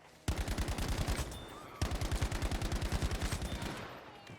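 StG assault rifle firing in Battlefield 5, two rapid full-auto bursts of evenly spaced loud shots, the first about one and a half seconds long and the second about two seconds, close and with no voices.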